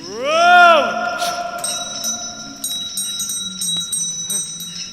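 A bell rings during a Christmas Carol stage play, with a resonant sustained chime and later scattered metallic strikes, while a voice calls out over the ringing near the start.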